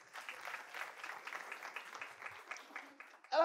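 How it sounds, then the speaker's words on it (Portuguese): Faint scattered clapping from an audience at a SEBRAE business talk, thin and distant, ending with a brief louder burst of sound. "Uma salva de palmas, por favor."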